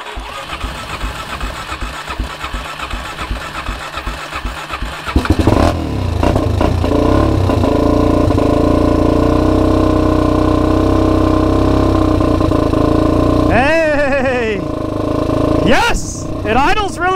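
A small ATV or dirt bike engine, just back from a carburetor cleaning with fresh gas and a new plug, cranks and catches, then settles into a loud, steady close-up idle while people talk and shout over it.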